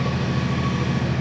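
A tractor-pulled seed drill works across a field, giving a loud, steady mechanical drone that holds constant throughout with no voices.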